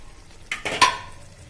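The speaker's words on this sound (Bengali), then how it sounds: "ঢাকনাটাও নামিয়ে নিচ্ছি" A metal lid lifted off a pot of five-lentil dal cooked with eggs, giving a few quick clinks and a brief metallic ring, close and alone.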